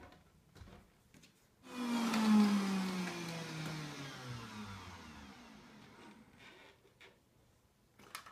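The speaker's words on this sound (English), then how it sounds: "And now I will turn on my Waring blender." A Waring blender whirs into action on soaked nuts and water for raw vegan nut cheese. The motor surges up loudly, then its pitch slowly drops and settles before it quietly winds down.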